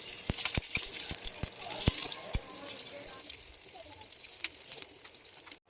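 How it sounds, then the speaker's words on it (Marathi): Chopped onion frying in hot oil in a kadhai, a soft background sizzle punctuated by sharp clicks and taps of a utensil against the pan, fairly quiet throughout with no speech. "तेल गरम होताच कट केलेला कांदा टाकला."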